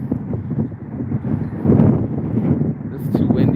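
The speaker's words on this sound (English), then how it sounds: "This is too windy." Gusty wind buffets the microphone with a low, rumbling roar that swells and fades, close and fairly loud throughout.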